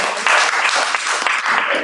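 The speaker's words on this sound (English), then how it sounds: "give us a clap for listening," Audience applause fills a talk session, dense and steady clapping from a crowd that holds at an even level for about two seconds with no break.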